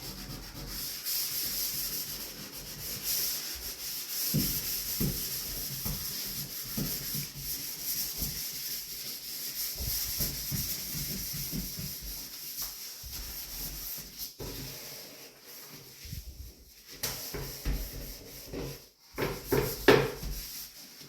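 A shower is scrubbed clean in a sweeping S pattern across its surfaces, with continuous close rubbing and brushing strokes that surge and pause irregularly, with no voices.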